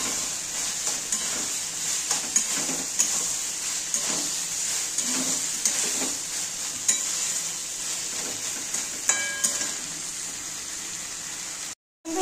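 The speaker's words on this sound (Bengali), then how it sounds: "সোয়াবিনটা আমার কষানো হয়ে গেছে" Soybeans stir-fried in a thick spice masala for aloo soybean curry, a close sizzle with regular spatula scrapes and taps against the pan, ending in a brief silence.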